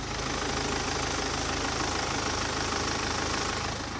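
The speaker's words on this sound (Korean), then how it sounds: "나가서 엔진 소리 한번 들려드리고 영상 한번 마무리 해보겠습니다." A later-type BMW 5 Series diesel engine idles steadily up close, a low rumbling drone with an even, unchanging hum throughout.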